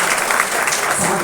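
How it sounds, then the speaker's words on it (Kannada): Audience at a religious event in Gajendragad breaks into applause, a dense, steady wash of many hands clapping at close range with no gaps. "ದಯಮಾಡಿ ಎಲ್ಲರೂ ಕೂಡ ಚಪ್ಪಾಳೆ"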